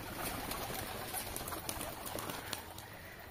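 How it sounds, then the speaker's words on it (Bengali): Pigeons in a home loft coo softly over a constant hiss of background noise, with no talking. "তো এখন এই কটা পায়রাই রয়েছে।"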